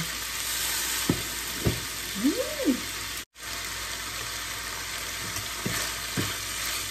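A Thai cha-om omelette and minced pork frying in a pan, giving a constant loud crackling sizzle broken by a few utensil taps and one brief dropout.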